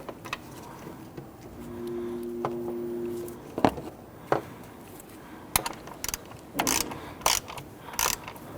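Ratchet clicking in short bursts while undoing nuts on the intake manifold of a 2011-2015 Kia Sorento, close by, with scattered metallic clanks and a brief low hum in between.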